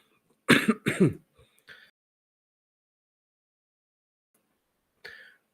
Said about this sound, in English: Still have a lingering cough here.